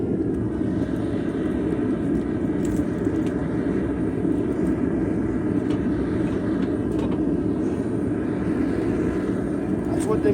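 A newly fired-up forge burner roars steadily throughout, a dense continuous low rumble with no letup, used for heat treating steel.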